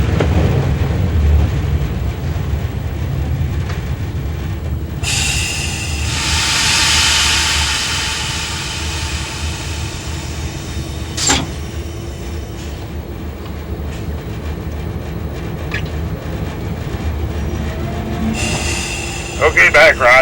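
A heavy freight train of loaded ore cars rumbles past at a steady roar, with a burst of metallic screeching partway through and occasional clanks and squeals from the wheels.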